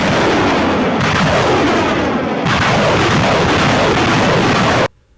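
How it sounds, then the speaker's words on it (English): Grad multiple launch rocket systems fire a loud, continuous barrage of rocket strikes. The roaring bursts and rumble run without break for about five seconds, then cut off abruptly into near silence. "Grad multiple launch rocket systems were used after aerial reconnaissance identified these positions"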